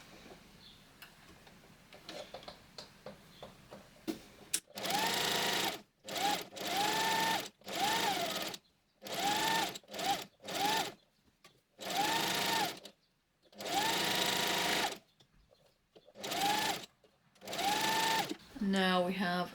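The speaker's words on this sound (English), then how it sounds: "we're going to sew about 1/4 of an inch away from the edge" A sewing machine runs at its maximum stitch length, sewing fabric near the edge in many loud, close bursts separated by short pauses, after a quieter stretch of handling sounds.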